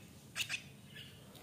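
A jalak kebo, a white-eyed myna being hand-trained, gives two quick harsh squawks close by, then goes quiet against a faint background.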